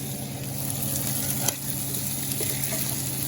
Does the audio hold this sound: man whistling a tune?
no